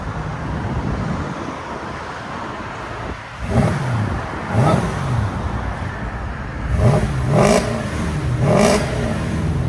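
A 2008 Mercedes S550 5.5L V8 with X-pipe and resonator delete revs in several short bursts over a steady idle rumble, each rev rising and falling quickly, loud and close with no talking.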